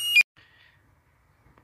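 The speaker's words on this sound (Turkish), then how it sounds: "Ön farın açık unutup arabayı terk etmemek için böyle bir uyarı siren sistemi yapmış arkadaşlar." Headlights-left-on warning buzzer of a Renault 9 Broadway gives one short, sharp electronic beep, followed by a faint, fading tone and then near silence.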